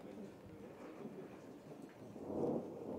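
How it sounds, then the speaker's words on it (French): Thunder rumbles low and steady over the mountains at Montgenèvre during an outdoor pétanque match, a distant dull roll that swells slightly near the end, with no rain falling. "Alors que ça tonne toujours autant sur Montgenèvre."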